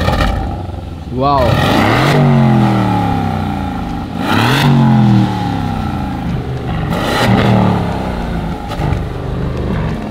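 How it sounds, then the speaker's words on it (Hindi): An Aston Martin engine revs hard several times in a row, each rise and fall loud and close, with a person exclaiming in between. "Just rev the car, rev the car."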